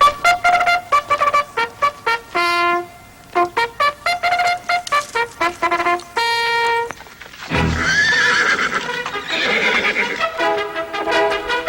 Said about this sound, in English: Kermit trains pacers and trotters by riding them around a quarter-mile track